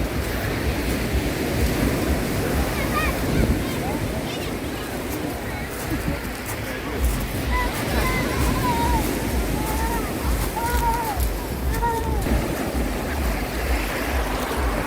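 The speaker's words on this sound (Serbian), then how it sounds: "Talasi nisu veliki." Gentle surf washes steadily onto a beach with wind noise over the microphone, while a voice talks intermittently in the background.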